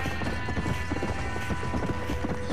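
Galloping horse hooves in the Western video game Red Dead Redemption, a steady, dense clip-clop rhythm under constant game ambience, loud and close, with no talk.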